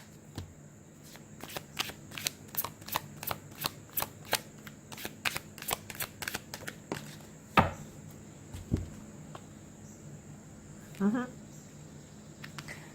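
Tarot cards are shuffled in bursts of sharp riffling snaps in a quiet room, a rapid cluster of crisp flicks followed by a few softer card taps and brief handling noises.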